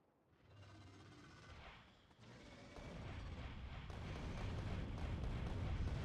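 Rocket launcher fire in the Factorio video game during a fight with spitters: a dense, rumbling barrage of blasts and bursts that builds steadily and grows louder over several seconds, with no voice over it.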